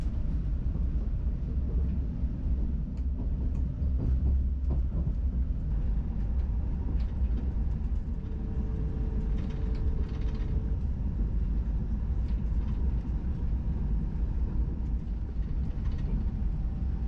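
An SŽ Pendolino train pulling out of Ljubljana station, heard from on board as a steady low rumble of wheels and motors with faint clicks and a brief whine, continuous and fairly loud.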